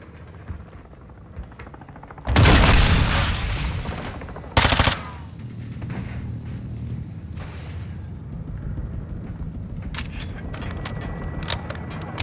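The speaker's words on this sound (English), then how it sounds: "are those my grenades or their grenades?" Grenades blast in a Modern Warfare 2 Remastered firefight: two loud, close explosions about two seconds apart, the first with a long rolling roar, then a steady rumble of battle noise with scattered sharp cracks.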